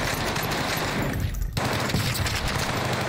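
Rapid bursts of automatic gunfire from the video game Call of Duty: Warzone, loud and dense, running nearly nonstop with a brief lull midway.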